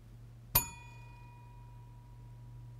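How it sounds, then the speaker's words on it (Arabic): A bell is struck hard once, giving a sharp metallic clang followed by a clear ringing tone that slowly fades over a quiet room hum. "الخطوة الثانية نطرق الجرس بقوة"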